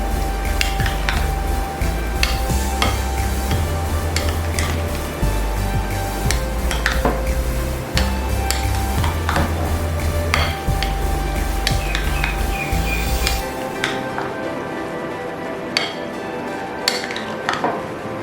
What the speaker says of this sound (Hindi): अच्छी तरह मिक्स कर देंगे।